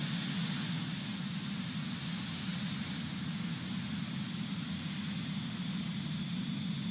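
A Falcon 9 rocket's engines roar at liftoff from Florida's Space Coast, a steady, dense, broadband rumble that holds constant and distant-sounding throughout, with no voices over it.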